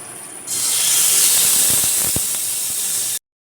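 A sudden loud hiss bursts out as prawns hit hot coconut oil for shallow frying, holding strong for a few seconds before cutting off abruptly.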